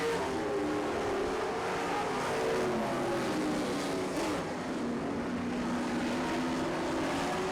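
Dirt Kings late model race cars roar around a dirt oval in a steady, loud engine drone, with several cars' tones rising and falling together and no voices over the noise.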